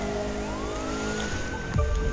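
Police sirens wailing in the racing video game The Crew 2 around downtown Los Angeles, a loud rising and falling siren tone over continuous engine rumble, alone with no talk, ending in a sudden thump.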